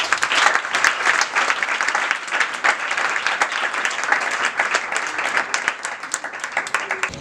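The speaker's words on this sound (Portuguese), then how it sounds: "Antes de nós proceder, Mírio, Núria, quando eles passam, vamos aplaudir para eles." A crowd at a children's shelter gathering applauds as children pass by, sustained dense clapping from many hands, fairly close and steady for several seconds.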